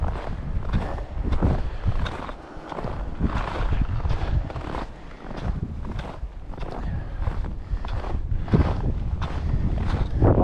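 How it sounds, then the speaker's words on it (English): Steady wind roars across an exposed stretch of the Prairie Mountain trail, buffeting the microphone continuously with gusty rumble and rustling, along with faint footsteps. "Section 6, the windy section."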